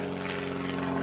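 A propeller airplane drones overhead outdoors in a garden, a steady continuous engine hum with strong low tonal harmonics holding level and alone throughout.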